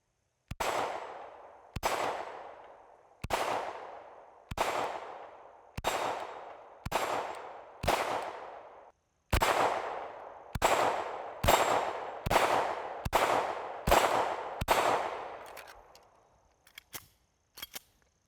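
SAR USA K12 Sport pistol fired in a steady string of about fifteen sharp, loud shots, each ringing out and decaying before the next, followed by a few faint metallic clicks and no talking.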